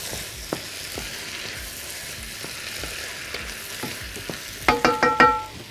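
Crushed garlic fries in a pan with an even, quiet sizzle. Near the end it gives way to a quick run of four or five loud scraping stirs.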